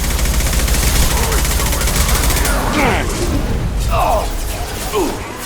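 Steady gunfire in the video game Mass Effect 2 forms a loud, continuous rattle under shouted voices, with a few sharp impacts and whooshing effects toward the end.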